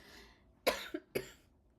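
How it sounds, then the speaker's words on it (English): Two sharp, close coughs in quick succession, the first with a short follow-up hack, in an otherwise quiet room. "I like really want to cough right now."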